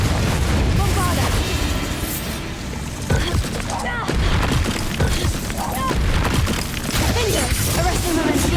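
Fire and explosion spells in the wizarding game Hogwarts Legacy make a dense, continuous barrage of booms and blasts. A voice calls out over the loud bursts.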